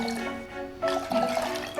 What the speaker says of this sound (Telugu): ఇందులో 1 కప్పు షుగర్ వేసుకొని దానికి 3 కప్స్ వాటర్ యాడ్ చేసుకుందాం